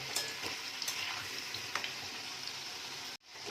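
Potatoes frying in plenty of oil in a pan for Bengali bhoger khichuri, a steady close sizzle and crackle with occasional stirring pops, running continuously until an abrupt cutoff near the end.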